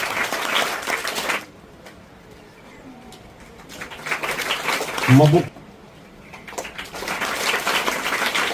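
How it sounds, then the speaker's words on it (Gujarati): Audience applause at a Standard 8 farewell ceremony in Kosadi primary school, arriving in broad bursts of clapping that rise and fall, with a speaker's voice over and between them. "તાળીઓ ચાલુ રાખો"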